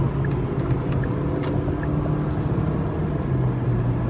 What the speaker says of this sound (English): Hope you heard that engine rev.